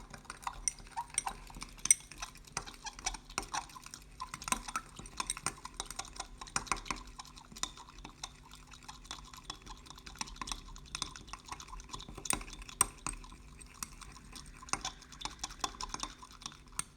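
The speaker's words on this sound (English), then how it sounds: "Now we add potassium chloride into the beaker and stir nicely and record the temperature." Potassium chloride stirred into water in a laboratory beaker, giving a steady run of light clinking and tapping scrapes that carry on without pause under no talk.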